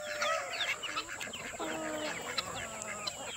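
Free-range backyard chickens on a homestead cluck and murmur close by, with a few sharper calls scattered through a steady, busy stretch of fowl chatter and no talking.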